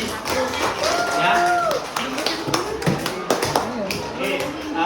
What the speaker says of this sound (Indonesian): tepuk tangan untuk kita semua hari ini ya